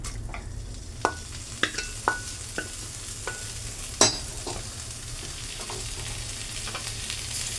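Ingredients tipped into a hot spice mixture set up a steady close sizzle, with a run of sharp clinks and scrapes in the first half and a single louder knock midway, with no talking.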